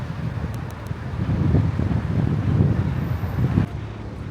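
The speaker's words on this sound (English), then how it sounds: "but it's very windy." Steady wind buffets the microphone on a hot, windy day outdoors in Bucharest, a continuous low roar that cuts off abruptly near the end.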